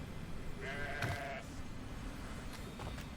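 A sheep bleating in a video game, one clear wavering bleat early on over a quiet background, followed by fainter rustling.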